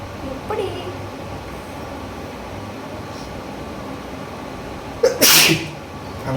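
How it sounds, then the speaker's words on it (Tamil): Person doing a sneezing challenge lets out a single loud, close sneeze near the end, after a quieter sharp intake of breath, over a steady background hiss with faint talk. "ஒரு வாட்டி பண்ணிட்டு எத்தனை தும்மல் வருது தான் கணக்கு."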